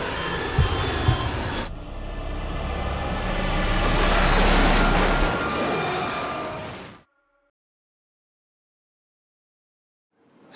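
Airplane in flight, loud and close: a broad, steady engine roar that swells, holds for several seconds, then cuts off abruptly into silence.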